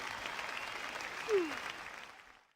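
A short burst of applause plays in the Blue Archive video game, steady clapping that swells briefly and then fades away to silence, with a faint voice underneath.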